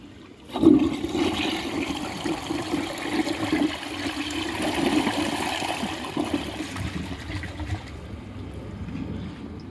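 A Compton toilet flushes up close, opening with a sharp surge of water that settles into a sustained swirling rush and then slowly tapers toward a trickle, with no voices.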